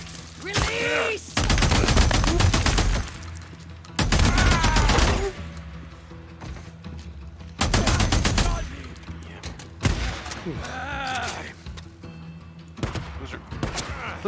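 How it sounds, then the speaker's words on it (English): Gunfire aimed at the player in the video game Days Gone comes in loud, close bursts of rapid shots with short gaps between volleys, a voice reacting over parts of it. "Who the fuck is shooting me?"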